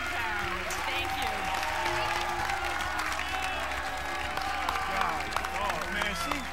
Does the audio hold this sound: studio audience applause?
yes